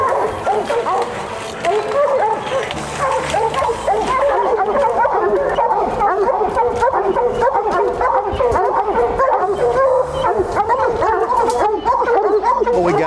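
Hunting hounds in North Carolina bear country bay and bark nonstop at a bear cub treed in the woods, a dense, loud chorus of overlapping barks and yips close by.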